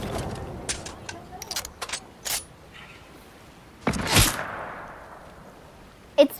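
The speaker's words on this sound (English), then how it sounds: "It's just a hunting rifle." Hunting rifle shots ring out in Fortnite: several sharp cracks scattered irregularly, one louder blast with a fading tail, and a final sharp report at the end, over faint background game noise.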